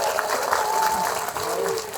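Hearty applause from a crowd at an outdoor protest rally in Bikaner, continuous clapping held at a steady level throughout.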